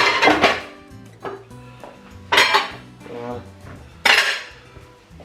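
Dishes and cutlery are cleared into a kitchen sink in a family home, with three loud clattering bursts of clinking plates and silverware and smaller knocks between them, close by. One short spoken word comes near the start.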